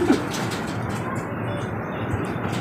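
Pigeons coo softly close by in strong, blustery wind as they are released to fly, low murmuring calls set against a steady windy rush.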